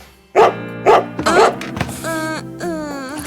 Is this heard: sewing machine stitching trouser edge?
no